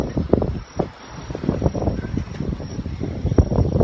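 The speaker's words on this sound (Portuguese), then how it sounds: "E o vento fica bem forte" Strong typhoon wind blows by the sea at high tide, gusting and buffeting the microphone in loud, uneven bursts of rumbling noise with no one talking.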